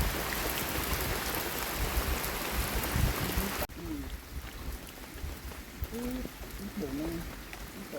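Steady rain falls throughout, a dense, even hiss that thins slightly midway, with faint voices and brief calls in the background.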